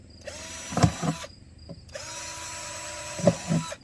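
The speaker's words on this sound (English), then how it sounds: "I'm going to drill a few holes on the side just to get some airflow" A drill bores holes into the side of a plastic kitty litter container in two short bursts, each with a rising motor whine and clattering as the bit bites, separated by quieter pauses.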